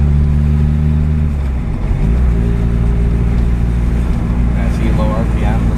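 A 1.6-litre diesel Volkswagen Golf engine runs at low RPM with a steady, loud low rumble and throb, while a voice talks over it throughout.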